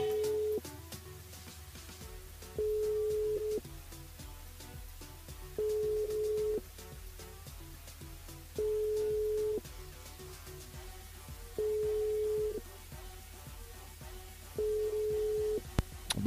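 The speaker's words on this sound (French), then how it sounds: "On appelle Pascal du côté du sud." A telephone ringing tone on a call-in radio show, regular one-second tone bursts repeating about every three seconds, unanswered over a faint steady background.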